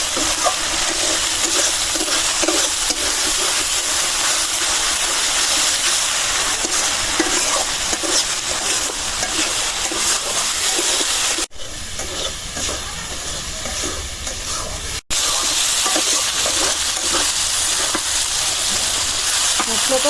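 Fish curry spices frying and being stirred in a pan, a steady close sizzle with scraping stirs throughout and a short quieter stretch partway through.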